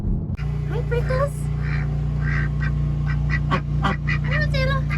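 Ducks and geese at a farm quack and honk repeatedly in a busy, close chorus over a steady low hum.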